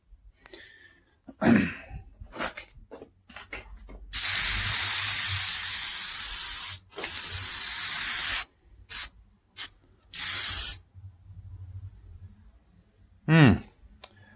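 A spray paint can sprays a 1962 Mercury Comet dashboard in long hissing bursts, then in several shorter puffs, with rattling clicks and brief talk between them.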